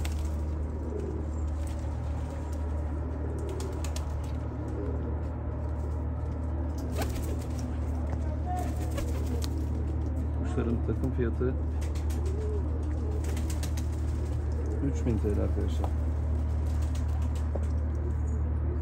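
Assorted breeds of pigeons coo and flutter in a loft at close range under a steady low hum, while someone talks over them throughout.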